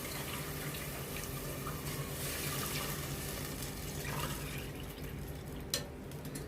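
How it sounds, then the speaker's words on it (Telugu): Water pours steadily into a pot of rice for bagara rice, a continuous hissing splash that runs unbroken for several seconds before a faint clink near the end. "నాలుగు గ్లాసులు వాటర్ వేస్తున్నాను"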